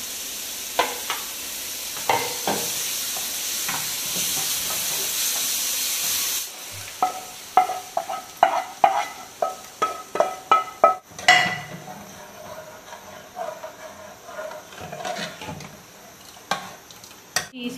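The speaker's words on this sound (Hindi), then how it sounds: "अभी लग रहा है तड़का।" Loud sizzling of spices hitting hot oil, a steady hiss at first, then sharp crackles and pops with scraping stirs and clinks of a pan.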